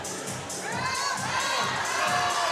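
A powerlifting meet crowd at the deadlift stage cheers and shouts steadily, a dense wash of voices that stays loud and continuous throughout.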